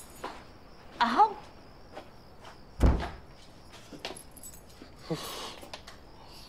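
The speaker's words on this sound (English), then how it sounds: "Ah, this stupid door." A stuck door is tugged and rattled open: a few sharp knocks and thunks, a jangly clatter, then a heavy thump near the middle, with scraping and softer bumps afterward in a quiet indoor room.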